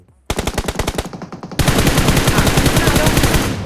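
Automatic weapon fire in the mobile game PUBG Mobile: a rapid, loud, close burst of evenly spaced shots, a brief pause, then a denser sustained stream of fire running to the end.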